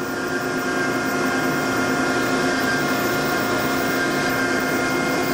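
A Marvel automatic horizontal band saw cuts steel bar stock into 2.5 inch lengths in an industrial machinery setting, producing a continuous, steady machine whir and grinding hum throughout, fairly close and unbroken.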